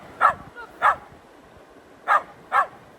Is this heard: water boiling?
no